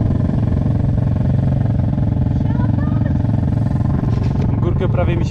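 A motorcycle engine runs loudly and steadily up close, a constant droning rumble filling the whole stretch.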